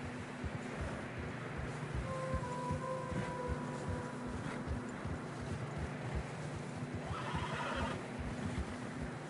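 A horse whinnies with a thin, drawn-out cry on a snowy mountain trail in Red Dead Redemption 2. A rougher call follows near the end, over steady wind and a low rumble of hooves.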